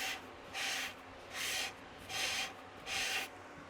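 Abrasive rubbing as a cut-down tom drum shell's edge is trued and smoothed, four even sanding strokes roughly once a second with short pauses between, close and fairly quiet.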